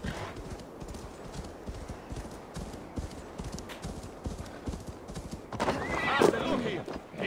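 A horse in Assassin's Creed Valhalla trots under its rider with rhythmic clip-clop hoofbeats, then near the end lets out a loud neigh as the sound swells.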